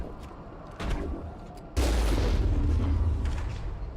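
Heavy booming gunfire from a sniper tank in the video game Mass Effect: a muffled shot near the start, then a loud, low blast that rumbles and lingers to the end.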